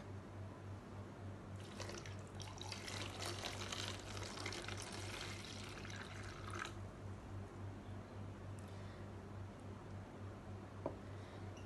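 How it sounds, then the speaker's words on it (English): Water pours from above into a container over a layer of rocks in an aquifer model, a splashing trickle that swells for a few seconds and then tapers to quiet drips over a constant low hum. "next we will going to pour this water into the container to represent the water"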